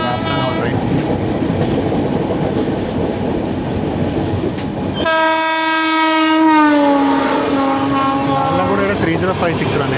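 A Netravati Express train hauled by a Lalaguda-based locomotive passes on an Indian railway line, rumbling loudly before a long, sustained horn blast rings out and bends in pitch near the end.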